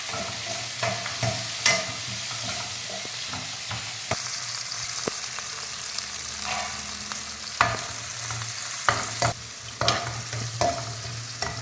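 Tomatoes and onions sizzle and fry in a pan, with scattered scraping stirs and clinks of a utensil recurring irregularly, close and without talk.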